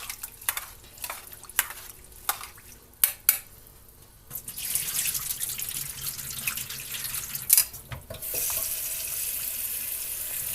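Water runs and splashes steadily in a sink, with intermittent clatters and sloshing as buckwheat is rinsed, then a louder continuous pour.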